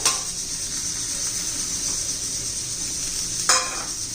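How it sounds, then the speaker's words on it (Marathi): Field beans stirred into turmeric masala in a hot pan give a steady, bright sizzle throughout, with a sharp metallic clink of the spoon near the end. "हे पहा त्यात आपण परतलेला पावटा घालूया"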